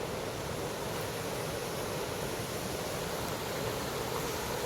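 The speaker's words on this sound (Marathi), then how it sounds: "बाजूला वाहतं नदीचं पाणी." River water flowing past a village in the evening rain, a steady, even rushing wash with no breaks, moderately faint and without voices.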